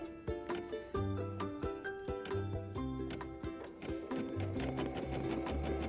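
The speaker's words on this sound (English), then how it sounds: "So now it's gonna put the placement stitch for my next piece of Sunbonnet Sue." An embroidery machine stitches a Sunbonnet Sue placement line in a fast, steady mechanical patter of needle strokes, close and loud, with no talking.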